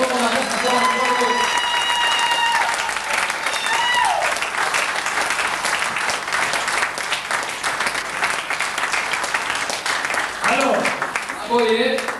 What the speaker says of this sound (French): Acclamons très fort pour le Seigneur.